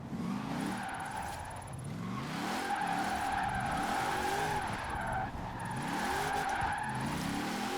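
A Hot Wheels Bone Shaker in Forza Horizon 4 slides on ice, its engine revving up and down in repeated surges while the tires hiss and squeal, all at fairly low volume with no talking.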